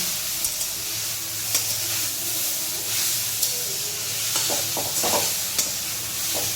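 Grated carrots are stirred in a hot pan for carrot nadu, giving a soft continuous sizzle and hiss with a few sharp spoon scrapes and knocks against the pan, close by and with no voices.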